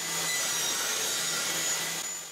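A table saw with a finger joint jig cuts through a wood workpiece, a steady high whining roar of blade and wood that holds loud for a couple of seconds before easing off.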